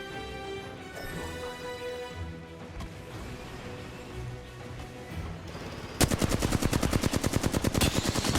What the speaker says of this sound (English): I saw an opening and took a shot, downing a weak player